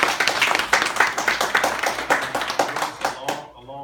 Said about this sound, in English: So give a big round of applause to you.